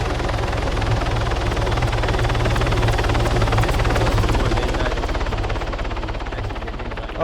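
Helicopter in the video game Arma, a loud continuous rotor thump with rapid even blade chopping and turbine whine, steady and close throughout.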